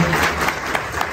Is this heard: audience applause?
yes